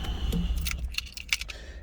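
Two keys for a 2018 Mazda MX-5 1.5 convertible jangle and clink together up close, several light metallic rattles in a quiet interior.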